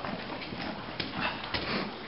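Hooves of draft horses clip-clop in an uneven rhythm at moderate distance, with a faint noisy background and a few muffled voices nearby.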